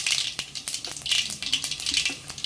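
Mustard and cumin seeds sizzling in hot oil for a spinach dish, a close, dense crackling sizzle with rapid popping bursts throughout, fairly loud and without talk.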